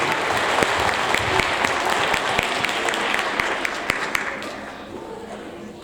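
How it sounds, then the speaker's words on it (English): A school audience claps for sixth grade Academic Excellence Award winners, dense sustained applause filling the room and gradually thinning toward the end, with some voices mixed in. "One more great big round of applause for the first marking period Academic Excellence Award for the Maroon team."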